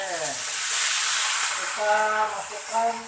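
Water spinach frying in a hot pan with sautéed garlic and shallots, giving a steady close sizzle and hiss throughout, with a voice speaking over it partway through.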